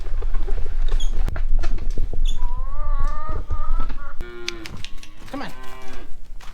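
Several cattle moo in repeated, drawn-out calls close by at outdoor feeding time on a snowy, icy farm, with a dense low rumble of wind and shuffling around them.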